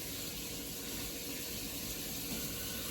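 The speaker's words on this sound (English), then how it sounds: "then just fill it up with water, and then you're gonna just boil it" Water runs steadily from a kitchen tap into a cooking pot, a constant broadband rushing at moderate level with no talk.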